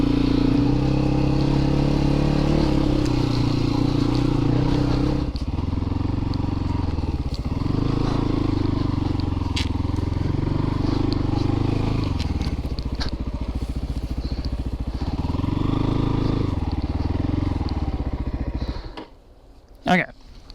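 A Christini AWD 250DS all-wheel-drive dirt bike being ridden, its engine buzzing steadily and loudly close by with repeated rises and dips in revs, ending abruptly with a brief clatter.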